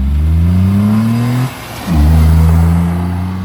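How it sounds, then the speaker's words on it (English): A VW Fox accelerates hard in a 0-60 test, its engine revving loudly and close, dropping briefly at a gear change before climbing again under sustained strain. "They're really not designed to be ragged the hell out of like this."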